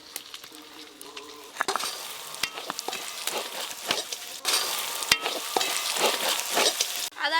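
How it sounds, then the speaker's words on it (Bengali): Ginger, garlic and onion frying in a pan, a crackling sizzle that grows louder midway, broken by scraping stirs and brief clatters, with little talk. "আদা রসুন পেঁয়াজ খুব ভালো করে ভেজে নিয়েছি"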